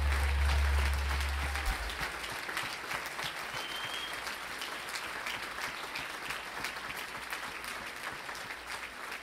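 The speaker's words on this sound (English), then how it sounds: "let's give the parents and grandparents a round of applause for what they did to get them here" Sustained audience applause at a graduation ceremony, even dense clapping from a large crowd held throughout, with a low thump at the start and no speech over it.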